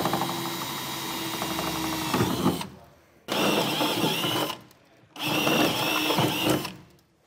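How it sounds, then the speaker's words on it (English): A power drill with a 4mm bit drills holes while a truck bed platform rack is being fitted. It makes three steady, close whirring runs separated by short pauses, with no talking. "we're going to take a 4mm drill bit, and we're going to work up to a 7mm drill bit"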